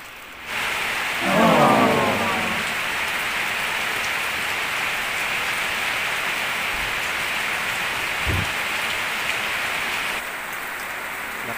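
Heavy rain pours steadily in a dense, hissing wash beside a river in a flooding area, with a brief rumble near the start and a couple of soft thuds later on.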